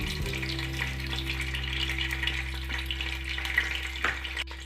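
Half a cup of ghee going into hot oil in a pan for a creamy chicken pulao, giving a continuous close sizzle and crackle with a low steady hum underneath, no voices.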